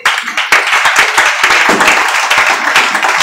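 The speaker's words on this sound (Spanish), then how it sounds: "Denle un aplauso a Dios por él." Loud, dense applause from a church congregation at an evangelistic service, many hands clapping rapidly and continuously throughout, close and full, with no talking over it.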